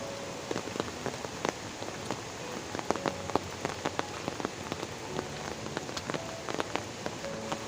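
Steady rain patters on surfaces outdoors during a monsoon downpour in a hill village, with scattered louder drops and drips standing out over the soft continuous hiss; no voices.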